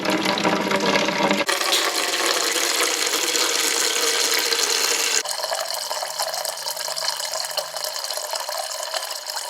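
Water drains steadily out of a race truck's cooling tank, a continuous splashing, gurgling flow that shifts character partway through, loud and close with no talk.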